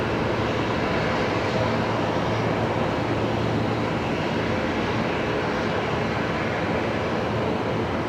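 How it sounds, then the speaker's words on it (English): An Embraer jet arriving from Newcastle at Brisbane Airport produces a broad, steady engine roar that stays loud and even throughout, with no voices. "The Embraer from Newcastle."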